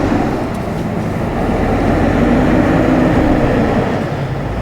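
A Toyota Sequoia Platinum SUV (non-TRD Pro) crawling off-road in 2-wheel drive while losing traction, heard as a loud, continuous, close drivetrain rumble that holds steady throughout.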